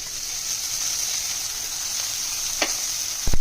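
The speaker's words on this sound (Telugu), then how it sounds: "మీడియం ఫ్లేమ్ పెట్టి ఫ్రై చేసుకున్నాం" Brinjal fries in oil over a medium flame with a steady, even sizzle and hiss throughout. A couple of faint taps come near the end.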